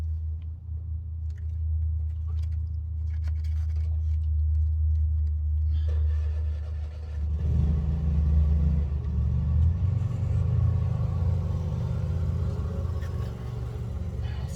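A vehicle arriving at a rural property: a low engine rumble in the distance that grows louder and rougher partway through as it draws nearer, steady with no talking.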